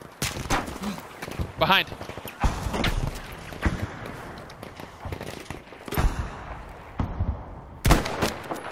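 Sharp sniper gunfire in the Battlefield V Firestorm video game, several loud isolated cracks spaced a few seconds apart, mixed with other game sounds and a voice speaking over them.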